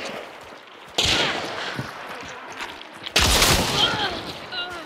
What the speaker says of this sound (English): Fucking hit him with the shotgun